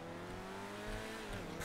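A classic car engine in GTA 5 Online, a steady idling and revving drone, fairly quiet and continuous with no talking.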